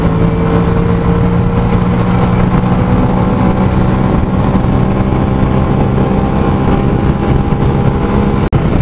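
Bajaj Freedom 125 CNG motorcycle cruising in fourth gear at around 90 km/h on the road, a steady, loud engine drone with wind rush, unbroken and without talk.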